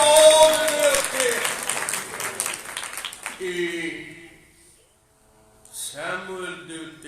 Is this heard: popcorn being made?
no